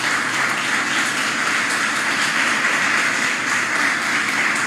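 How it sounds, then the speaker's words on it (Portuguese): Congregation applause fills a Portuguese-language church service, a dense, steady wash of many hands clapping at once for the full few seconds, with no pause or swell. "Você pode dar um aplauso a Jesus nessa manhã"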